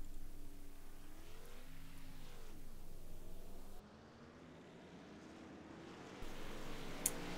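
A field of race cars in the iRacing simulator at Chicagoland pulls away behind the pace car, a steady engine drone with rising and falling pitch sweeps as cars accelerate, moderately loud with no talk over it.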